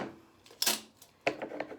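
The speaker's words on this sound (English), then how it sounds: "just cut off a piece of sellotape about this much" Scissors snip a piece of sellotape in two quick, close, crisp cuts with a short pause between them, quiet and alone.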